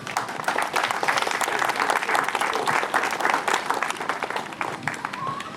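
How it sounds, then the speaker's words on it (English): A crowd claps at a pool opening ceremony for VFW members, with sustained, even applause throughout and faint voices underneath. "Another round of applause for the VFW"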